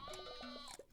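Sheep bleating in a farming video game, a quick, quiet cluster of short wavering bleats lasting about a second.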